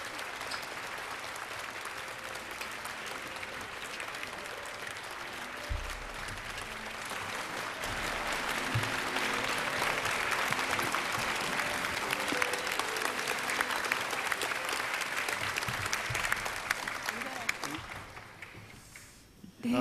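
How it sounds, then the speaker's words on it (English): An audience at a presidential briefing event bursts into sustained applause for the First Lady, steady dense clapping that swells in the middle and then fades out near the end. "Please give her a big round of applause."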